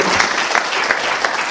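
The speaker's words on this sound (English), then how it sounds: "Please, another round of applause for" Applause from an audience at a five-day intensive disaster management course for the Nigerian Navy, a steady wash of many hands clapping close by, continuous and fairly loud for the short span.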